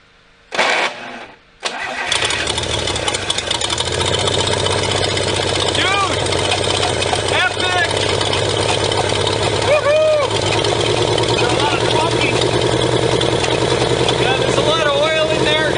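A balky old engine sputters briefly, cuts out, then catches and settles into a loud, steady, rough idle that runs on for over ten seconds, with someone talking over it.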